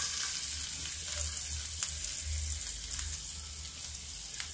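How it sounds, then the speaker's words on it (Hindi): Onions go into spluttering cumin in hot oil, producing a continuous close frying hiss with faint crackles and occasional spoon taps, without any voices. "जीरा तड़कने लगा है अब प्याज डालते हैं।"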